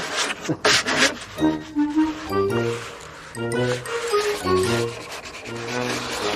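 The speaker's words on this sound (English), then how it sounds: "Maybe you can help me sanding the coffin." Rhythmic rubbing strokes of sandpaper on a wooden coffin, back and forth at a steady pace, close up, with a harmonic squeal on some strokes.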